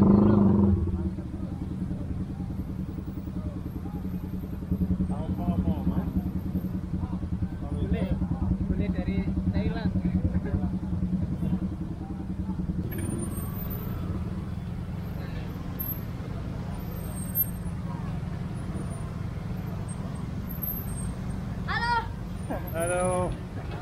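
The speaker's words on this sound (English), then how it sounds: "there's so much traffic" Busy street traffic in Indonesia, a steady low hum of passing motorcycles and cars with occasional horns, heard under people talking nearby.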